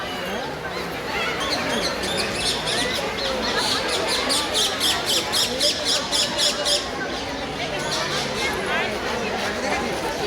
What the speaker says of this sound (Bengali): আমরা বাহারি প্রজাতির কিছু পাখি দেখতে পাচ্ছি, ব্লু এবং ইয়েলো ম্যাকাও, এই বিদেশি পাখি।